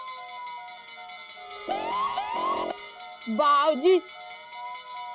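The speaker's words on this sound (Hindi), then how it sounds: "ये फायर ब्रिगेड की आवाज कहाँ से आ रही है?" A fire brigade siren wails in rising and falling tones, fairly close and loud, over a steady background of music, with a brief spoken word in the middle.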